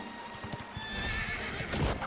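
A horse in the video game Dragon Quest XI whinnies while its hooves clop in a steady rhythmic gait, close and clear, with a short snort near the end and no talking.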